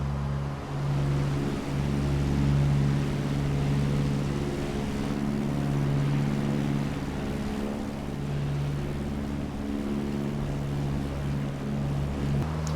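Steady, continuous drone of a Piper PA-28 light aircraft engine in Microsoft Flight Simulator 2024, a low humming tone with a constant pitch that holds evenly throughout, loud and close with no talking.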